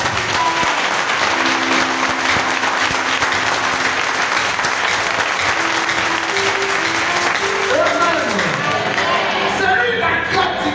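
Church congregation applauding during a worship service: loud, sustained, dense clapping fills the whole stretch, with sung or spoken voices and instrumental tones rising underneath toward the end.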